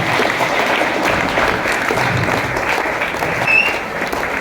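A classroom audience at a talk breaks into dense, sustained applause that is loud and close and lasts for several seconds, with no speech over it.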